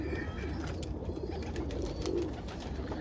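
Pigeons coo softly inside a loft, low murmuring calls repeating under a faint, steady background hush, fairly distant and quiet.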